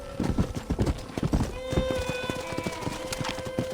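Horse hooves clip-clopping in the Red Dead Redemption game, a quick run of close, loud hoofbeats with a brief whinny and a sustained tone underneath, rhythmic and steady across the whole stretch.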